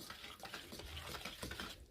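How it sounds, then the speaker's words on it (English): Sodium sulfate being stirred into a homemade shampoo mixture, giving a steady wet swishing and scraping that runs throughout, fairly close and moderately loud, with no talking. "Just take part of it and mix the sulfate, sodium sulfate."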